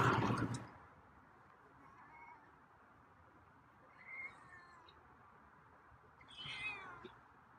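After a brief loud rustle, a feral cat meows softly twice at a distance, each meow short and faint against a quiet background hiss.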